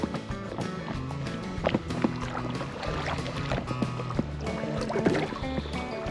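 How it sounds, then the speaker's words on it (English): A kayak paddles along a river near Lee's Ferry in Glen Canyon, with soft splashing strokes and trickling water running steadily under faint wind. "Once again, let Erica do the paddling"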